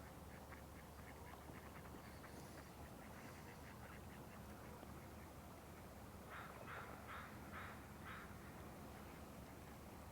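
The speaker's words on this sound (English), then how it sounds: "Can hear the crow behind me." Distant, faint calls sound behind the observer along the shore at Porpoise Bay: a short series of five quick harsh calls against steady wind and water noise, with softer similar calls earlier.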